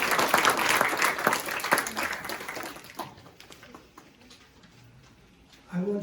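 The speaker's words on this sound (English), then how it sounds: "Please give them a round of applause." Audience applause for guest musicians and their conductor at a Mother's Day church service, a dense wash of clapping that thins out after about three seconds and fades to quiet before a voice returns at the end.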